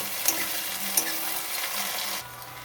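Onions and a small tomato frying in a pan give a steady close sizzle with a couple of sharp clicks, then the sizzle drops quieter near the end.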